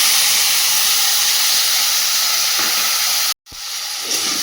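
Water tipped into a hot pan of ground cumin, coriander and chili powder for a potato and papaya curry gives a loud, steady steam hiss that cuts out briefly near the end, then resumes.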